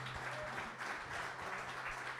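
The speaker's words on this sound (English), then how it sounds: "can we have a round of applause for that?" A gathering applauds Scotland's most capped rugby player at a talk, a short spell of soft, scattered clapping from a small audience.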